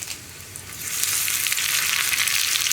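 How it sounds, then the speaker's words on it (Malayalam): Dried red chillies and curry leaves fry in hot coconut oil as a tempering for kumbalanga kichadi. The close, hissing sizzle starts moderate and swells louder after a second, then stays steady with no talk. "വറ്റൽമുളകും കുറച്ച് കറിവേപ്പിലയും."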